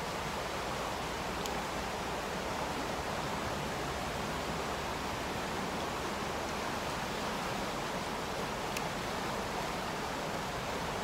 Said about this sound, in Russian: Моя секретная речка. Это река Яуза.